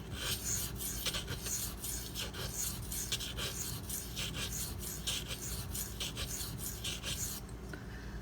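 Steady rasping grind of a Spyderco Dragonfly knife blade worked against a sharpening stone, pressure held on a chip in the edge; continuous close strokes with a constant low hum beneath, no voices.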